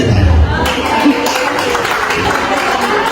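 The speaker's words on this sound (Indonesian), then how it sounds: "Ya, kita tepuk tangan." School audience clapping hands at a teacher reflection session, a loud, steady patter of many hands throughout with voices mixed in.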